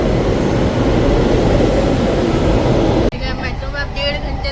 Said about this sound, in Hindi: फाइनली मेट्रो आ गई हमारी